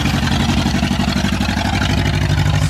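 An old-fashioned tractor engine runs in a loud, steady low chugging throb, close by and without talk.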